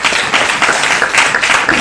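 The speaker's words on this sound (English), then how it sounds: "I think we really need to give a round of applause for that." Audience at a national youth indaba clapping in a round of applause, a loud, dense, continuous patter of many hands with no voices over it.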